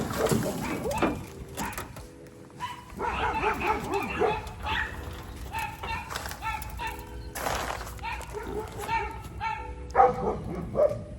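Several dogs bark, yip and whimper while playing outdoors near a backyard greenhouse, bursts of excited barking close by and scattered across the clip, with a person talking in between.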